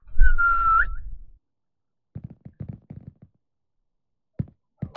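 A single short whistle from a character in an Unreal Engine 5 game demo, loud and steady for about a second, followed by quiet footsteps and knocks.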